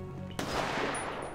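A single sharp gunshot in the video game GTA 5 roleplay cracks out after a moment of low background hum, followed by a lingering noisy tail.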